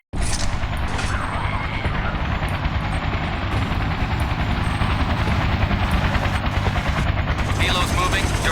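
Helicopter in the Battlefield 2: Modern Combat video game, a steady loud rotor drone running continuously with mechanical clatter and intermittent bursts like gunfire layered over it, while voices talk intermittently.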